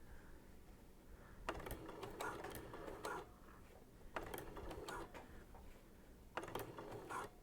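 A sewing machine fitted with a ruffler foot gathers layered green and blue fabric, running in three rapid rattling bursts separated by short pauses, fairly quiet and close.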